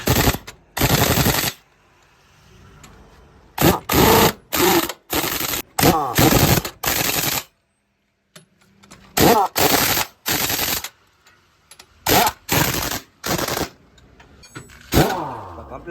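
Repeated loud bursts from a pneumatic impact wrench tightening the wheel nuts on a car tyre during a late-night tyre change, coming in short rattling runs with pauses between them.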